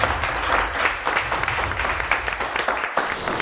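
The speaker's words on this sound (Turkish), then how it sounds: "Alkışlarınızla ilk kelime geliyor." Studio audience applause on a Turkish word game show, lively clapping at close range with uneven swells, continuing steadily without talk.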